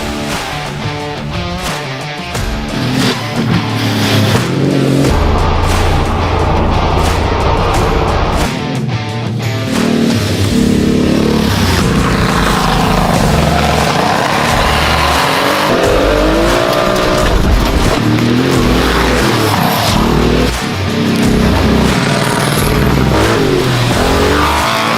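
Porsche 959 Paris Dakar rally car driven on snow, engine loud and close as it revs and accelerates through gear changes, with tire squeal and skidding, no talk.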